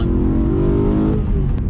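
A BMW E92 M3 with a new loud aftermarket exhaust revs in a steady, sustained engine drone, close and loud, with no talking.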